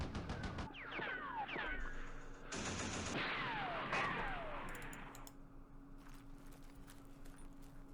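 Gunfire in the war game Campaign Series Middle East at the Battle of Jerusalem, rapid crackling bursts and whistling sweeps early on, then tapering into quieter scattered pops over a low hum.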